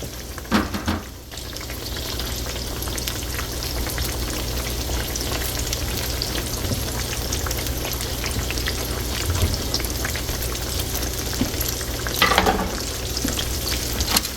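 Thin-sliced green tomato slices frying in oil for a Southern crispy snack, making a constant close sizzling crackle with a couple of louder bursts of clatter near the start and end.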